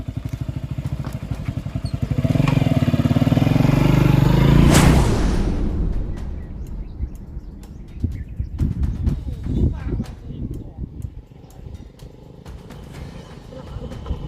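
A motorcycle engine fires up and revs loudly for a few seconds, then drops away while people talk nearby.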